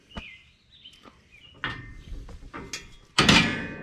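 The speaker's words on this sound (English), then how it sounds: "So you can open the whole door." A steel access door on an Arrowquip Q-Catch 54 Series cattle chute is swung open, giving several clanks and rattles, with a loud metallic bang near the end, heard close up with no talk.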